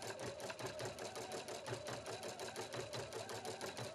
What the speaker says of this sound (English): Your Husqvarna Viking Platinum Plus embroiders up to 700 stitches per minute.